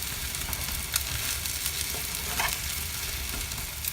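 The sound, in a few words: bread omelette frying in a pan after flipping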